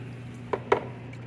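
A metal car part from an Alfa Romeo 1750 dropped into rinse water during plating, giving two brief, close splashes about a fifth of a second apart over a steady low hum.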